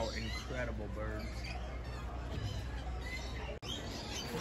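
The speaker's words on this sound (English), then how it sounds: "Look at all these birds." Birds squawk and chirp in an aquarium aviary, lovebirds among them, mixed into a busy, noisy crowd with people talking throughout and a brief dropout near the end.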